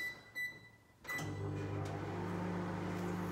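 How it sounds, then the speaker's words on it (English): A couple of short beeps, then a microwave oven's low steady hum starts and keeps droning as it runs. "Chuck that in the microwave for 3 minutes."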